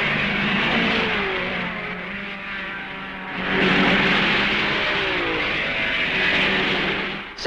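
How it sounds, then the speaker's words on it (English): Engines of 1955 racing cars at the Spa Grand Prix, including Ferrari and Mercedes cars, heard as a sustained roar that swells and fades as cars pass, with shifting engine pitch over a steady background hum. "At La Carrière, the Ferrari is coming up behind Castellotti."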